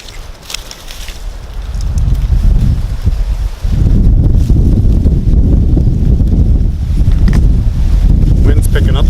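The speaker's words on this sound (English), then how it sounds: "Wind's picking up, so hopefully my tinder bundle doesn't blow away." Gusty wind buffets the microphone outdoors at a campfire-making spot, a broad low roar that swells after a few seconds and stays loud and steady to the end.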